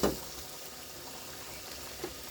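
Beef frying in a pan for a stew: a quiet, steady sizzle in a home kitchen, with a short clatter at the start and a faint tap near the end.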